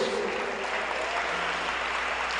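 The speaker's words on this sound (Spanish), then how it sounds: "dale un aplauso al Señor" A church congregation applauds during a Sunday sermon with steady, dense clapping that holds at an even level for a short stretch, with no voices on top.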